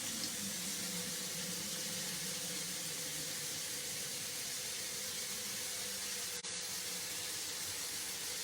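Water from a kitchen tap pours steadily into a jug for a crock pot, a continuous, even hiss with no talking, broken only by a brief click near the end.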